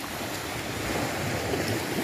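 Gentle, modest waves break steadily on the east shore of Pulau Panjang island in Pasaman Barat, West Sumatra, at midday, a continuous near wash of surf with some wind rumble and no voices.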